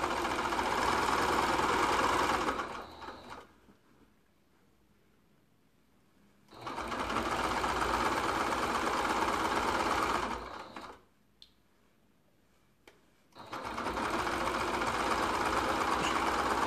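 A sewing machine stitches binding onto the edge of a large quilt-as-you-go quilt in three loud, steady runs of rapid stitching, separated by short pauses where the motor stops.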